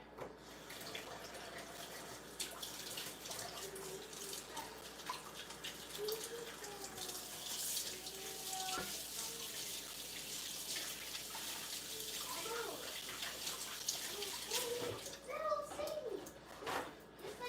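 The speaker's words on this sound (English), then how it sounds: "Let me wash my hands" Hands washed under a running kitchen tap, a steady moderate splash of water with faint rubbing, while people talk faintly in the background.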